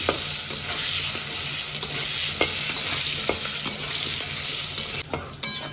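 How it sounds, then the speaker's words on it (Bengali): Potatoes fry with salt in a pan over a loud, even sizzle and hiss, with intermittent stirring scrapes and taps; the frying sound thins and breaks up near the end. "এবার ভালো করে আলুটা ভেজে দেবো"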